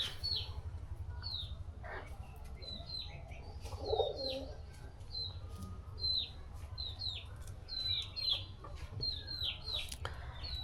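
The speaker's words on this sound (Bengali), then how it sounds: "আমাদের কবুতর দেখুন।" Pet pigeons coo in low repeated throbbing calls beneath frequent small chirps from young birds, with a few clucks heard at close range.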